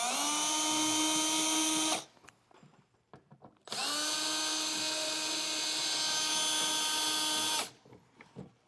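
A power drill whines loudly backing screws out of a Furrion Chill Cube air conditioner on a 2022 Forest River Salem RV, two long bursts separated by a short pause with light handling clatter.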